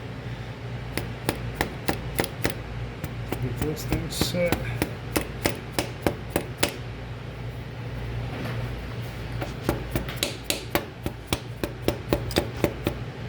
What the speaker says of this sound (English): with a little rubber hammer, give it just a little tappy